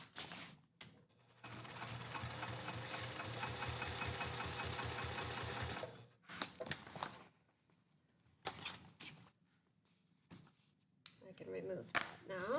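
A sewing machine stitches leather straps onto a tote bag at stitch length 3 with a steady, close mechanical whirr and rapid needle knocking for about four seconds, then several shorter stop-start bursts with quiet gaps.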